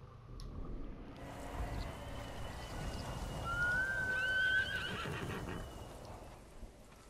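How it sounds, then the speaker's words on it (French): A horse whinnies in Ghost of Tsushima, a clear rising neigh in the middle over a steady bed of outdoor ambience and soft hoofbeats, with no talking. "Tu es un bon cheval, ça."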